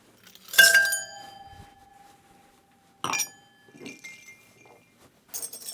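Ice clinks against a glass while a Byrrh quinquina cocktail is stirred, a few sharp bright chimes with ringing tails separated by quiet gaps, close and clear.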